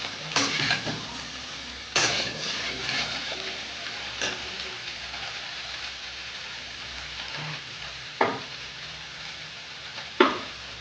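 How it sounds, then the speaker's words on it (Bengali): A spatula stirs pui shak (Malabar spinach), prawns and ridge gourd frying in a pan: a faint, steady sizzle broken by about five sharp scraping clicks spaced a couple of seconds apart. "একটু নেড়ে নেব, নিচে খেয়ে যেতে পারে।"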